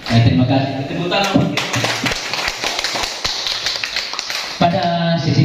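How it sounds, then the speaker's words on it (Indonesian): Clapping from a group of teachers at a school session, a dense patter of hands between stretches of voices, with talk before and after the clapping. "Tepuk tangan."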